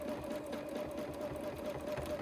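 A sewing machine runs steadily during free-motion quilting, its needle clattering in a fast even rhythm with a constant motor whir, close and continuous with no pauses.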